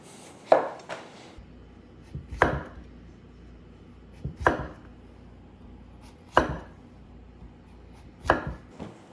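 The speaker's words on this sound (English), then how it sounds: "I'm cutting this zucchini into, let me measure this, about 1/4 inch slices." A knife slices through a zucchini into quarter-inch slices on a cutting board, five crisp chops landing at an even pace about two seconds apart, close and clear in an otherwise quiet kitchen.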